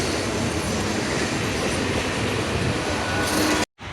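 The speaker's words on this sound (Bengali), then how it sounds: "অনেক বড় ট্রেন।" A long Sealdah–Krishnanagar City local train runs past a station platform, a loud steady rumble of wheels and carriages with rail clatter that fills the whole stretch before cutting off abruptly near the end.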